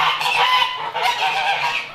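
Farm geese or ducks honk loudly and continuously in a dense, close chorus, a noisy flock racket with no talking over it.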